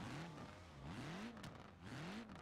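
Tuned Trabant fitted with a scooter engine, revving up and down in steady repeated swells, loud and close with a buzzing whine and no talk.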